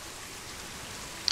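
Steady rain falling outdoors around an animal enclosure, a soft continuous hiss of drops with one brief sharper patter near the end, moderately quiet and without voices.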